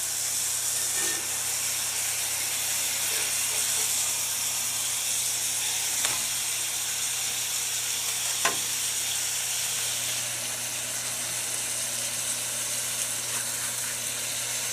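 Hamburger patties seasoned with onion and garlic powder sizzle and fry in a pan on the stove, a loud, continuous close hiss with a few faint clicks and no voices.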